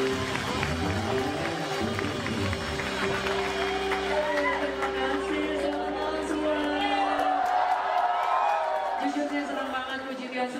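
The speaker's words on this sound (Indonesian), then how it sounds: "tepuk tangan yang paling keras yang membuat album ini resmi menjadi album dangdut karena kehadirannya" Audience at a dangdut Christmas show applauds and cheers for a singer, a sustained wash of clapping and whoops beneath a host speaking over amplified music.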